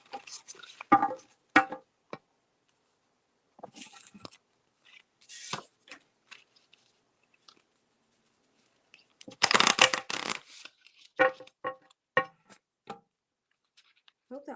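Tarot cards are shuffled in short, crisp bursts of riffling and slapping, separated by quiet gaps, with one longer flurry in the middle and close, dry handling noise throughout.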